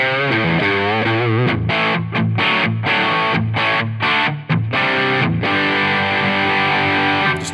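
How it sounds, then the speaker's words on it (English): Electric guitar through a Line 6 Helix overdrive patch modeled on a Soldano SLO-100 amp, playing loud, thick, driven chords and sustained notes in choppy bursts with brief gaps between them; no one talks. "Push. Overdrive."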